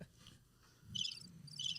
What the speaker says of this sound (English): It's crickets.